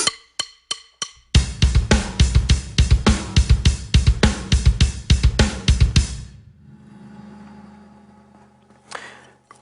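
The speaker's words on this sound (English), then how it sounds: "So that would be a right foot lead pattern." A few sparse kick drum hits open into a rapid, steady stream of right-foot-lead double bass drum strokes with cymbal wash, then it stops and rings out quietly.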